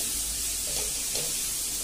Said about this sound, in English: Let's again saute this so that the raw smell of the ginger and the garlic paste goes away.